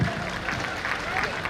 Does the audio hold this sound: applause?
yes